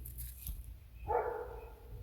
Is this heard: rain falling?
no